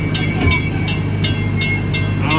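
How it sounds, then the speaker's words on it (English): Small Gatorland park train rolling along, a steady rumble with a rhythmic series of clacking bursts from the wheels on the track, close by and fairly loud. "wait till the train comes to a complete stop."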